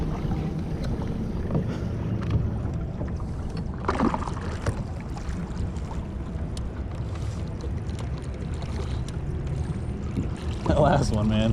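A Nucanoe Frontier 12 kayak runs in reverse under a Newport Vessels 55lb thrust electric trolling motor, giving steady close water rush and wind noise throughout, with brief splashes near the end.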